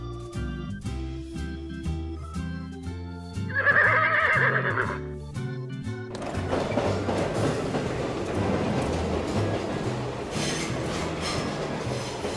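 A small BRIO wooden toy train starts up with a brief whistle-like tone, then rattles and clatters steadily along its track, loud and close.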